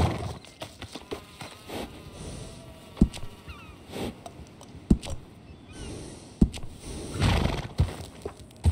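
A horse whinnies and snorts while hooves clop intermittently in Red Dead Redemption 2, accompanied by sharp thuds and faint insect buzzing in an outdoor setting.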